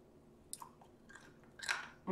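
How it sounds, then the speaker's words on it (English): A few crisp crunching bites of popcorn close up, sparse at first and louder toward the end, with no talking. "Crunchy, delicious, so tasty."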